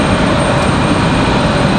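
Airliner noise from an Icelandair jet on approach to land at Raleigh-Durham on a stormy day, a steady loud broadband roar that fills the whole short stretch with no voices.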